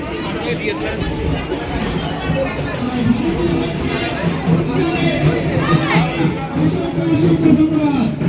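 Dense crowd chatter fills a busy railway platform at Bolpur, with many overlapping voices forming a loud, steady babble close by.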